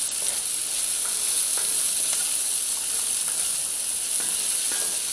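Purple onions sauté in a pan with a constant, fairly loud frying sizzle, punctuated by a few faint clicks from stirring.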